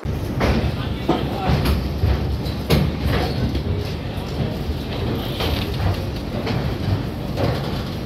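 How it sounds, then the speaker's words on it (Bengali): Humsafar Express train at Sealdah station, with rolling rail clatter and repeated knocks and bangs from the carriages, heard under a person's talking in the foreground. "আমাদের ট্রেন হামসফর এক্সপ্রেস শিয়ালদা"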